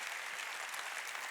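Church congregation applauding during a Sunday worship service, a brief, even wash of many hands clapping at a moderate distance.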